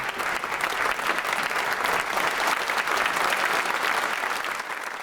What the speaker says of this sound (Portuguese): os representantes do parlamento britânico aplaudiram Zelensky de pé